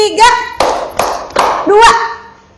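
A class of children clap hands in unison during a counting clap game in a classroom, making four or five sharp group claps in quick succession, with a teacher's voice speaking between and over them.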